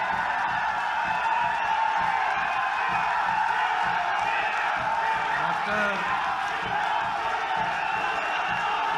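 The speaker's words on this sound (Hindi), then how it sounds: "तालियों की गड़गड़ाहट रुकनी नहीं चाहिए" Crowd at a Hindi political rally in Hisar, where Dushyant Chautala is being welcomed, keeps up a steady, dense wash of applause and cheering with scattered whoops, continuous and moderately loud across the whole stretch.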